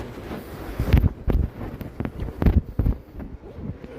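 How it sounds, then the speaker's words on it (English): Gusts of wind buffet the microphone in heavy, irregular low thumps and rumbles, rising and falling in bursts with no voices. "It's getting windy today."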